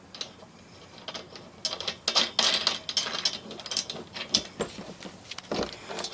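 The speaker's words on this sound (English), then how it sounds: "to tighten these on the sides, you're really going to need a ratchet with a 3/4 inch socket and a 3/4 inch wrench" A ratchet wrench tightens a 3/4 inch nut on the side of a plastic compost tumbler during assembly. It makes quick, irregular bursts of close clicking, some rapid and some spaced, with no talk.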